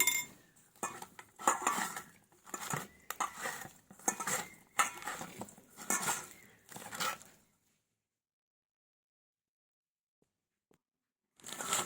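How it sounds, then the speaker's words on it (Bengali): Vegetables are mixed by hand with turmeric and salt in a metal bowl. Close clinks and scrapes come in irregular bursts, then fall silent for several seconds before one last clatter. "দিয়ে দেবো পরিমাণ মতো লবণ দিয়ে এবার ভালোভাবে মাখিয়ে নেব"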